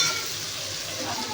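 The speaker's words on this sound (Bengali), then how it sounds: "পেঁয়াজগুলো দিয়ে ভালো করে একটুখানি একটু লাল লাল করে ভেজে নেব।" Chopped raw onions fry in oil for a mutton curry, a short burst of close, steady hissing sizzle with faint stirring and no speech.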